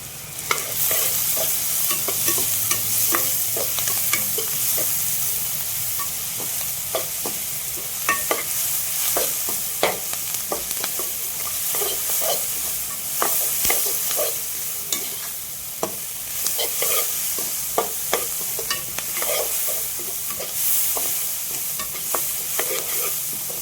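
Onions with added salt sauté in a pan, a steady loud sizzle with frequent scraping stirs of a spoon running throughout, no talking.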